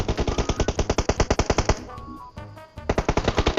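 Rapid bursts of automatic gunfire in the PUBG Mobile battle royale game, loud and close, with a short lull before the firing resumes in a quick staccato rhythm.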